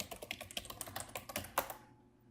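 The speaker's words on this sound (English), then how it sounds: "You are seeing me type here, sorry." Rapid typing on a computer keyboard, a close, quiet run of light key clicks in an irregular rhythm, ending with one firmer keystroke before falling silent.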